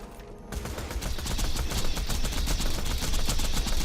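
Rapid automatic gunfire during a gold golem boss fight in Tiny Tina's Wonderlands, a steady stream of close, loud shots building quickly after a short quieter start and continuing without pause.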